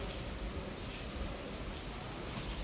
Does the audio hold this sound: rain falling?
yes